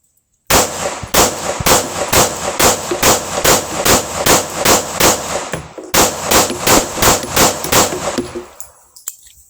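A Smith & Wesson M&P 2.0 pistol fires a rapid string of about fifteen loud, close shots at a steady cadence. A single short pause falls partway through, and the firing then trails off into quiet.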